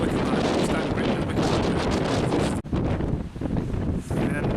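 Strong wind buffeting a microphone outdoors, a loud continuous roar with a brief drop partway through.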